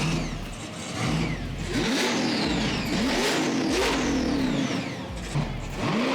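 A big-engined Dodge Charger revs hard and close, pitch rising and falling in repeated surges over a steady rumble, at a car show.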